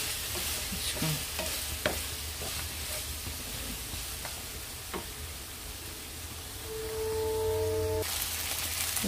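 Chicken pieces sizzle and fry in a pan for a garlic chicken fry, a steady soft hiss with occasional stirring clicks and scrapes, fairly quiet and close, no speech.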